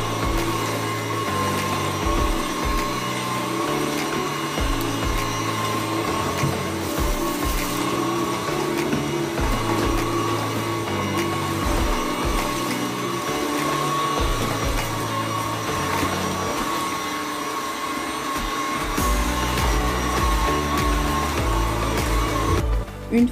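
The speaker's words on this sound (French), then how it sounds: "je passe juste généralement l'aspirateur dessus" An Easy Clean vacuum cleaner runs over carpet indoors, its steady motor whine holding throughout, with low thumps and shifting tones as the head is pushed back and forth.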